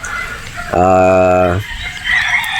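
A Sweater Boston gamecock rooster on a Batangas game farm gives one loud, close crow lasting nearly a second, with someone talking before and after it.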